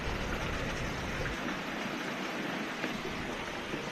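Torrential monsoon rain pours down in Myanmar, a dense, steady broadband hiss of heavy downpour filling the whole scene without pause or voices.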